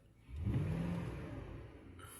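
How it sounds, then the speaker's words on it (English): A 2010 Ford F-150 pickup engine with a hard-start problem, still cold, gets a quick stab of throttle: the engine note swells into a short rev, then settles back to a steady, slightly elevated idle. "I'll give it a shot of gas with the foot."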